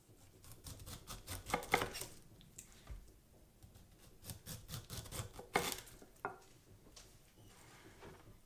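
A knife shaves the tough skin off the sides of a pineapple on a board, giving irregular wet crunching and slicing strokes up close with soft scrapes and thuds between cuts.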